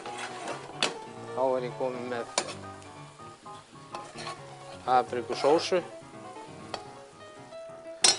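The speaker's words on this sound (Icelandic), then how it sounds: "sjóða þetta aðeins niður með rjóma" Paprika cream sauce simmers and sizzles in a pan, a steady crackling bed with occasional clinks of a utensil against the pan, close and moderately loud under a voice talking.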